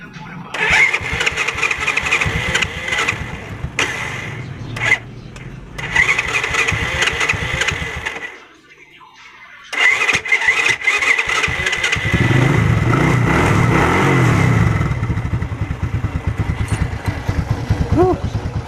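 A motorcycle engine is started after a stator-side oil seal repair. It cranks, catches, and revs loudly, briefly drops off, then roars and settles into a steady close running note while someone speaks.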